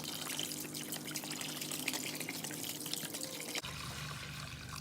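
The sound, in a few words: vinegar being poured into a container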